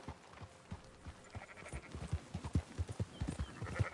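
Horse hooves clip-clop at a steady trotting rhythm in the Red Dead Redemption 2 video game, fairly quiet and close, with faint background ambience and no talking.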